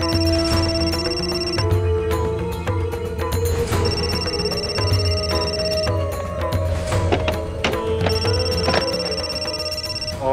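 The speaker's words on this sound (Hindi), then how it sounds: "फोन भी गाड़ी में छोड़ कर गई है ये।" A mobile phone left behind in a car rings with a bright repeating electronic ringtone that stays loud and steady, sounding on its own throughout.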